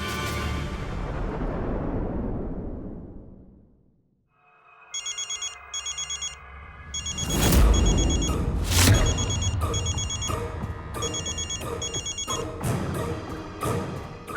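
A loud crash fades into near silence, then a phone rings in repeated electronic bursts while heavy dramatic music swells underneath.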